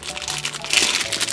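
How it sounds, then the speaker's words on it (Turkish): Plastic bag crinkling open in a cartoon, a brief burst of close, crisp rustling and crackling that swells midway, with no talk over it. "Şu poşeti de açayım şöyle."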